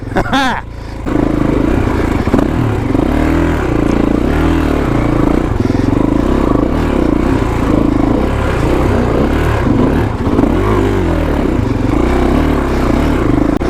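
A 2021 Kawasaki KX450X, a 450 dirt bike, revs steadily on technical single track, its engine note rising and falling continuously with clattering chassis noise throughout, loud and close.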